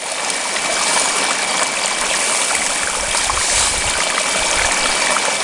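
A 2,000 gallon-per-hour water pump drives water through a sluice box lined with silicone caulk mats, giving a loud, steady rushing wash with no pauses, alone without voices.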